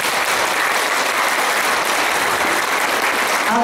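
Steady, dense applause fills a school hall for first-grade pupils at their induction ceremony, an even, continuous wash of many hands clapping close by for the whole stretch.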